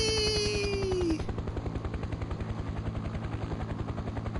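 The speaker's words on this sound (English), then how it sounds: "you get to go for a helicopter ride" A helicopter in a video game map chops steadily in a fast, even rotor pulse, continuous and fairly loud, after a brief high whistling tone fades at the start.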